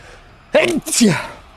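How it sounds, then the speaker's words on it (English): A single sharp, close human sneeze in two bursts, a brief intake followed by a loud explosive release, heard alone with no talking around it. "Fucking sneezing."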